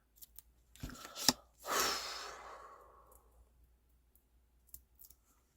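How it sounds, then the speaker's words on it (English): Scissors cut a small piece of foam dimensional adhesive for a handmade card, a couple of sharp close clicks followed by a long breathy exhale, then faint small clicks. "I'm actually going to custom cut a piece of the dimensionals to go on the back of here."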